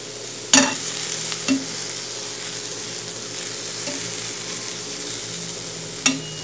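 Steady sizzling of ground meat frying in a pan, with a few sharp scrapes and knocks as a utensil stirs it, close and continuous.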